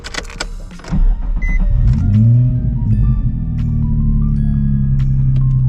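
A Nissan 350Z starts off on a sunny Christmas Day drive: a few light clicks and knocks come first, then the engine swells into a loud, steady, rising drone heard from inside the car.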